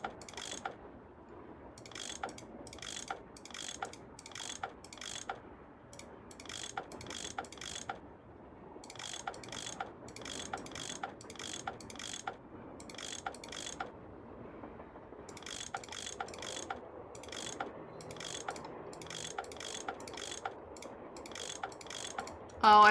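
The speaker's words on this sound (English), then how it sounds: "I bet that's what you use to unscrew these bolts." Repeated ratcheting clicks of a tool unfastening bolts in the Nancy Drew game Last Train to Blue Moon Canyon, sharp mechanical ticks coming in quick rhythmic bursts with short pauses between, fairly quiet and with no voices.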